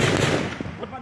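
Loud, dense bursts of gunfire crack and roll outdoors during an armed clash, continuous and harsh with a sharp peak midway, close to the recorder.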